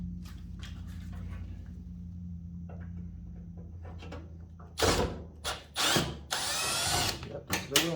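A power drill whirs on a Samsung dryer, first a low steady motor hum backing out stuck screws, then several sharp bursts of high-pitched grinding and rattling as the screws break loose, close up.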